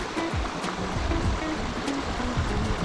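Water in a mountain stream rushes steadily and fairly close, a constant broad wash with a few faint splashes and no speech.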